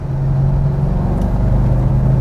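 2007 Bentley Azure engine in manual mode, downshifting on a curvy road, a loud steady low drone with a constant hum from inside the car.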